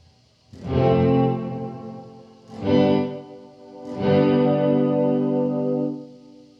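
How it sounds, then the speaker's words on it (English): Guitar tone run through a Death By Audio Rooms reverb, with a noise gate chopping off the reverb tail: three loud, distorted, chorus-thick swells, each sustaining and then cutting out abruptly, with no voices. "So there, I have gate pretty much like cutting off the reverb"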